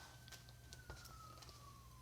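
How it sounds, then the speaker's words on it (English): A police siren plays from a television in the room, a faint, steady descending wail heard at a distance under a quiet background with a few small clicks. "You can hear the police siren going."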